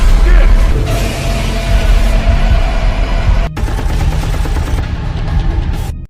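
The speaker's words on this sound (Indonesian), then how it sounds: "terdengar suara tembakan mengenai Eiji dan terjadilah baku tembak di sini." A dense, loud barrage of gunfire fills the whole stretch, shots overlapping in a chaotic shootout with shouting mixed in.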